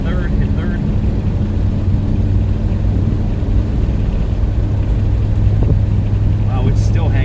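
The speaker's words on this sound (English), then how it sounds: "Wow, it's still hanging in second gear. So it's not shifting to third gear." A 1986 Oldsmobile Cutlass pulled from a junkyard is driving while stuck in second gear. Its engine drones with a loud, steady low rumble throughout, and a voice talks over it.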